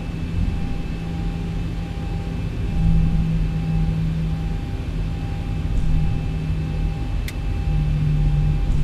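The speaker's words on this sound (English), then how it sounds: "You don't need a lot to keep it taxiing." Steady jet engine hum and rumble from a Boeing 737-900 taxiing on the ground in the X-Plane 11 video game, a continuous loud drone with faint tonal whines, no voices.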